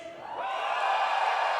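A crowd at a bouldering climbing competition cheers and whoops, a loud sustained roar swelling and holding steady.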